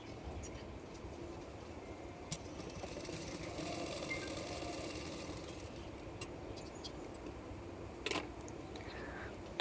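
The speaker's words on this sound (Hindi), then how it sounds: "तो मैं इस तरह से फोल्ड करके सिलाई करूँगी।" Electric sewing machine running steadily while stitching a folded blouse belt, a continuous low mechanical whir at close range, fairly quiet, with a couple of brief clicks and no talking.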